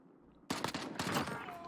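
A sudden burst of rapid gunfire erupts after a short quiet stretch in the shooter game Call of Duty Modern Warfare, several close, loud cracks in quick succession during a team deathmatch.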